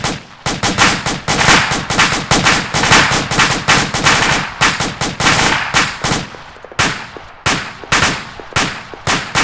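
Machine gun fire from a fire team during a training exercise, loud close bursts of rapid automatic shots in long strings with brief pauses between volleys.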